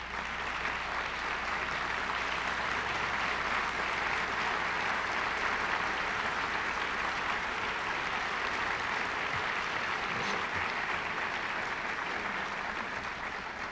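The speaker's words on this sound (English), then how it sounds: "please stand up and receive a round of applause from the King community" A sustained round of applause from a large university convocation audience at a president's opening day address, dense, even clapping that fills the hall continuously and stays at a steady level throughout.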